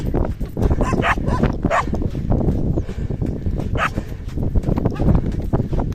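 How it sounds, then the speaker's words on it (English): Aggressive stray dogs bark continuously on a beach in Tunisia, several overlapping barks and yelps close by over a steady wash of wind and surf. "These dogs were very aggressive and would not let me pass through the beach."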